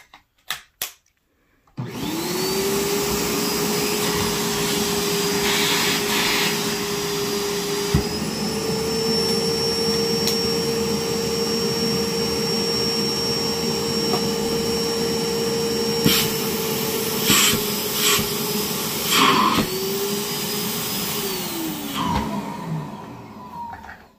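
A Bissell Bark Bath dog-washing vacuum, used for bathing a Husky, runs with a steady loud motor whine and hiss for about twenty seconds, briefly changing pitch midway before shutting down; no one speaks.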